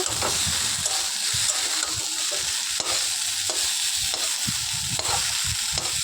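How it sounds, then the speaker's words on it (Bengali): Vegetables for a Bengali milk shukto fry steadily in a pan with broad, constant sizzling, broken by repeated scrapes and knocks of a spatula stirring them through, close and fairly loud with no talking. "তো আমি সবজিটাকে ভালো করে ভেজে নেব।"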